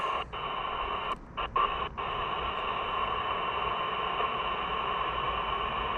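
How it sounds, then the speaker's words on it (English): Steady hiss and static pour from a CB ham radio receiver hooked to a modest antenna, with no clear station coming through. A few brief dropouts in the first two seconds break the noise, then it runs even and unbroken. "So I'm going to turn the radio back on."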